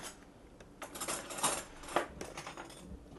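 Spinach stirred with a spoon in a pot: several close metallic clinks and scrapes against the cookware, irregular and fairly quiet, with a couple of sharper taps.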